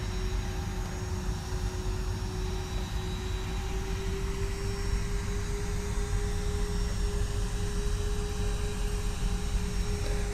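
Airbus A320 jet engines idle while the airliner taxis toward the runway, a steady, even roar with a thin sustained whine and no talking.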